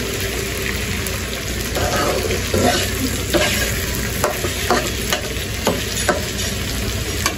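Taro stolons (kochur lati) being stir-fried into a bhaji, loud close sizzling with repeated spatula scrapes and clacks against the pan at an irregular rhythm, no speech.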